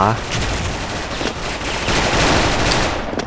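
Loud, dense M4A1 rifle fire in the Special Force shooter game, rapid overlapping bursts from a close-range firefight that barely let up across the whole stretch.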